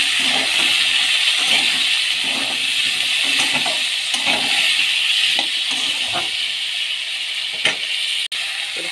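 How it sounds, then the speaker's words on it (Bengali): Onions and potatoes frying in oil with whole cumin seeds for a rohu fish kalia, giving a steady loud hiss and sizzle throughout with a few clinks and stirring knocks, no talking. "এবার তেলে দিচ্ছি, গোটা জিরে ফোড়ন দিলাম, পেঁয়াজ, আলুগুলো দিয়ে দিচ্ছি।"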